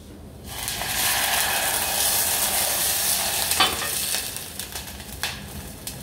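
Sweated shallots hiss loudly as white wine hits the hot pan for pastis-roasted prawns, a sudden surge of close sizzling that stays strong with a few sharp spatters.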